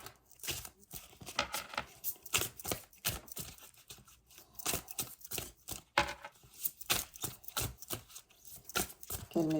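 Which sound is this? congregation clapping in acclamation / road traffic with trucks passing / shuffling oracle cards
shuffling oracle cards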